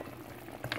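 Water bubbling in a pot of frying Jamaican oxtail, a brief close simmering boil with a small splash at the end, no talk.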